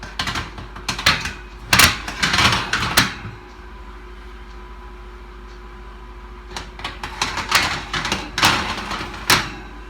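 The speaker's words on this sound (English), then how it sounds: "now you go ahead and put the racks back in" Oven racks are slid back into a Samsung gas range, giving bursts of metallic scraping and rattling clatter, then a quiet pause before more sliding and clanking, close and fairly loud.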